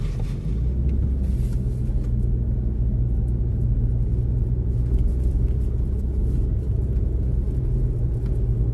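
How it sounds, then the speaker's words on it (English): A car is driven at the speed limit on a road, giving a steady interior rumble of engine and tyres that stays even and unbroken throughout, with no talking. "I'm driving the speed limit."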